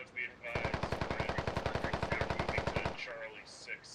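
Sustained automatic gunfire in the tactical shooter SquadOps, a rapid evenly spaced burst lasting about two and a half seconds, loud and close, with faint radio chatter before and after.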